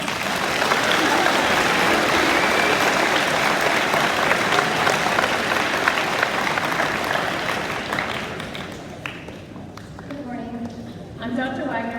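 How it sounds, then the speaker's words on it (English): Sustained applause from an audience honoring students at a high school awards day, loud and dense for about eight seconds before thinning out, with a voice beginning to speak near the end. "Please give these students a round of applause."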